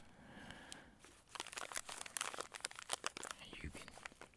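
Crinkly cracker packaging is handled up close, a quiet run of sharp crackling and crumpling bursts in irregular clusters, with soft whispered talk in the background.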